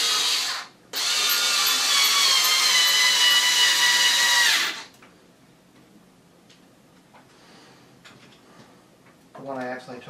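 A cordless drill whirs loudly and steadily for about four seconds after a brief first burst, then stops, leaving quiet handling noises and a short mechanical buzz near the end.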